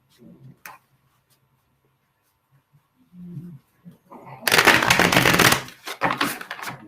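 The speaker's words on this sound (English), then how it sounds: "I'm going to shuffle the deck." A Herbcrafters Tarot card deck being shuffled: after a quiet stretch with soft speech, a loud, dense papery riffle of cards bursts in for about a second, followed by a few shorter shuffling rustles.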